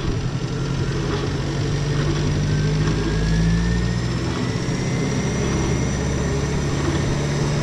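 A Ferrari engine running steadily nearby on a Tunisian street, a continuous loud drone with a faint rise in revs partway through and no talk over it.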